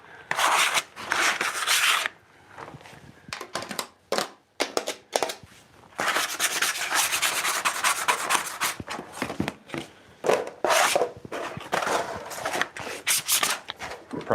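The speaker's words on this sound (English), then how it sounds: "now I'm just scraping the excess glue off of these separators here" A new scraper rasps repeatedly along the maple separators of handcrafted skateboard decks, clearing off excess glue in dense, scratchy bursts with brief pauses, close and fairly loud.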